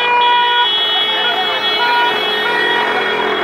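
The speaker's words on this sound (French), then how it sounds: "Tout le monde klaxonne." Many car horns honk together in support of a yellow-vest protest, a loud, overlapping, sustained blare, with voices mixed in underneath.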